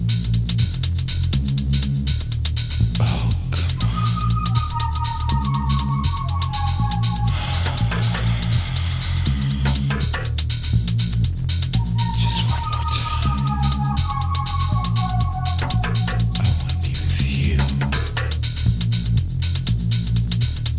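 Reese bass made from two slightly detuned oscillators with phase-distortion synthesis, a thick throbbing low drone running continuously and loud under a busy electronic track with higher melodic lines and drums.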